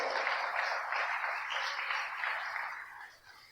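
Congregation applauding in a church service, a steady wash of clapping from many hands that holds evenly and then fades toward the end, with no voices over it.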